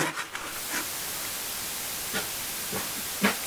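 A steamer feeds into a plastic pipe for steam-bending wood, giving a continuous soft hiss with a few brief faint knocks and clicks over it.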